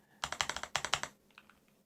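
Quick burst of typing on a computer keyboard, two short runs of crisp, close key clacks in rapid rhythm, then a few faint lighter taps trailing off in a quiet room.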